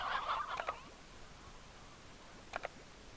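Chickens cluck and gobble in short bursts inside the Slime Rancher video game, a fairly loud flurry at the start and a brief pair of calls near the end.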